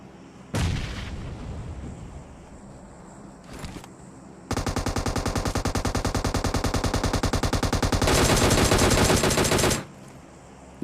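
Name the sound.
M249 machine gun fire in PUBG video game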